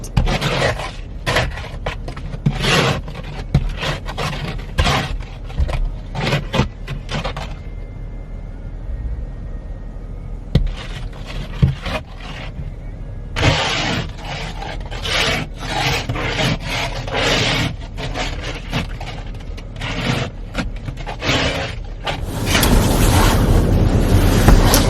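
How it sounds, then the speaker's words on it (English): An ice scraper rasps across a car's frozen windows in repeated close, gritty strokes, with a short pause partway through before the scraping resumes, louder and steadier, to the end. "I had the scraper in the car the whole time"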